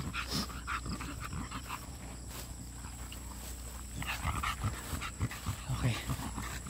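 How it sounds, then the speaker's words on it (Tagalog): An exotic bully dog pants heavily after a hike, rapid breathy huffs continuing close to the microphone amid faint outdoor background noise. "Ayan, hingal-hingal po si Bjorn."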